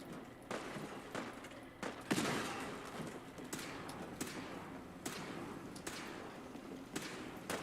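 Gunfire in Fallout 4 comes as repeated sharp shots at irregular intervals, fairly loud and steady, with a heavier burst partway through and no talking over it.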